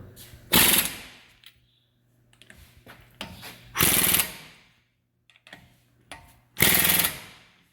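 An impact gun tightening the wheel nuts on a Kia during a front brake repair, firing three loud hammering bursts of about a second each, separated by quieter handling noises.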